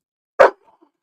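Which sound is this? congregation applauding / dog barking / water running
dog barking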